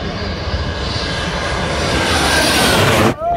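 An airplane lands on the runway at Hazrat Shahjalal International Airport in Dhaka, a loud, close roar of aircraft engines building steadily before cutting off abruptly near the end.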